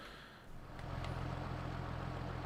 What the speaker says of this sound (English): Never get bored of hearing this tractor start up.